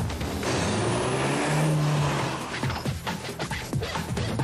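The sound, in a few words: Renault racing car driving around a corner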